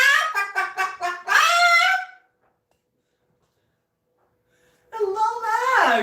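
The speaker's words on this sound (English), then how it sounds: "Now that's one very happy cockatoo." A pet cockatoo calls out loudly from its perch, a rapid series of harsh honking squawks followed by a longer drawn-out screech, then a pause of silence before another loud screeching call close by.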